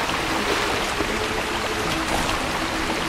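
Steady running water in The Legend of Zelda: Twilight Princess, a continuous loud rushing and trickling wash that holds level throughout with no breaks and no voices.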